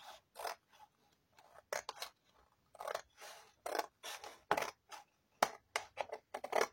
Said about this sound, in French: On va couper au ciseau